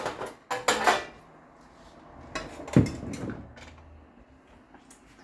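Metal baking pans clank and scrape as they are handled on a kitchen counter before being oiled with extra virgin olive oil for bread loaves, a few sharp knocks and slides with quieter rustling between.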